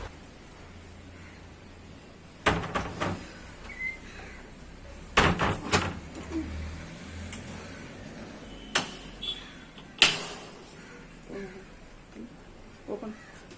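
A mosquito-net door is opened and closed several times, giving sharp knocks and rattling bangs in clusters, with faint speech-like sounds between them in a quiet room.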